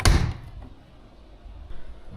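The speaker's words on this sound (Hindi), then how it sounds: "तो अब मैं करूँगी जी दरवाज़ा बंद।" A front-load washing machine door is shut with a single solid thud at the start, followed by a faint rattle and quiet room noise.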